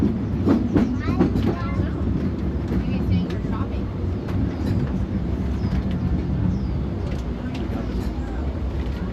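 A Disneyland Railroad train runs with a steady rumble and clickety-clack of wheels on track, loud and continuous, while a voice talks over it.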